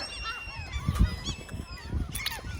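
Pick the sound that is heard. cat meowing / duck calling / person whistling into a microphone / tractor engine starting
duck calling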